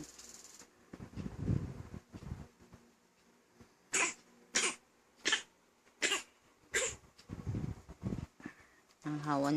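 A person coughs about six times in quick, sharp bursts, heard close up, with speech and baby sounds in the moments before.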